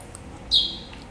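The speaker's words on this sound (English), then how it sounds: "We found the baby bird" A baby bird gives a single brief, high chirp, fairly close and clear, over quiet background.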